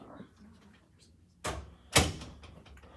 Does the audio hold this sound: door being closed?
yes